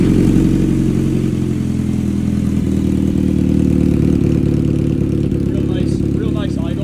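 A 2023 Kawasaki Z900 with a Leo Vince full exhaust starts and settles into a loud, close idle, its engine rumbling steadily with a faint mechanical clatter throughout.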